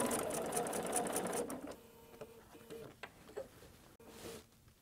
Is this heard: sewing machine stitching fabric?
yes